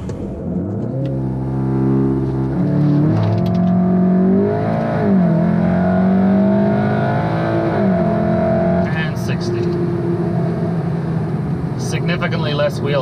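A Mk7 VW Golf R with 034 Motorsport dogbone and rear subframe mounts launches hard on a rough road, its engine revving up loudly and accelerating with rising pitch, then fading as it pulls away, with someone talking over the start.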